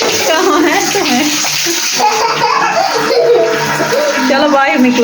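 Tap water runs steadily into a bathtub while a child is bathed, a continuous close splashing wash that goes on under a voice and a child's chatter throughout.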